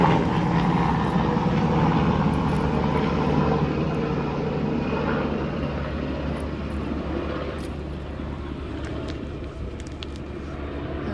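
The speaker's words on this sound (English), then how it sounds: "A lot of military helicopters flying over today." Military helicopters pass overhead outdoors, producing a continuous low, rumbling engine and rotor drone that fades slightly over about eleven seconds, with faint handling noises close by.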